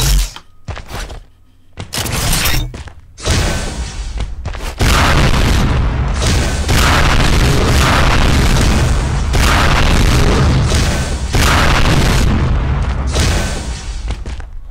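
Rocket explosions in the video game Unreal Tournament 4, with repeated loud booming blasts at first, then a dense, continuous roar of layered explosions and rumble filling the rest.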